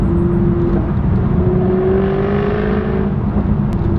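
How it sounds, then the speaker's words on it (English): A Jaguar F-Type V8S engine rumbles steadily with a deep exhaust note, revving slightly and holding a continuous loud drone throughout. "Oh man, just listen to that exhaust."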